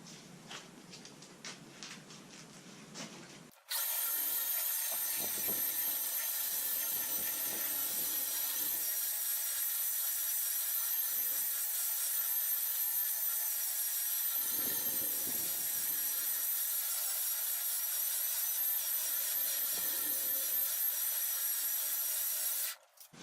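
Steady power sander working a longleaf pine live edge slab for a coffee table top, a loud continuous whine running close and alone for about twenty seconds after a brief quieter start.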